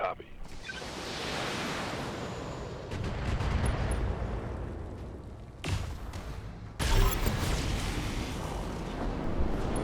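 Mech weapons fire in the video game BattleTech, with heavy booming blasts and rumbling impacts landing in several waves over a dense roar, loud and near.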